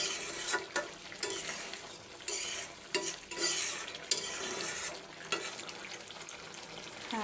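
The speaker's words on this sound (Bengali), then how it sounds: "এবার ভালো করে নেড়ে চেড়ে নামিয়ে নেব" Fish and potato curry frying in a pan, stirred with a utensil: soft repeated scraping strokes over a steady sizzle, close and fairly quiet.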